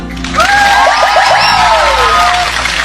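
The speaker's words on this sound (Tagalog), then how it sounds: "gusto niyong kausapin ko na siya, pumalakpak kayo" Crowd at a Filipino gathering cheering and whooping with loud, sustained shouts, rising pitch glides and some clapping, dense and close for the full length.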